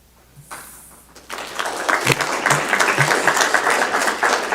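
Audience at a city council meeting breaking into applause, starting quietly after a moment of silence and swelling into steady, fairly loud clapping from many hands.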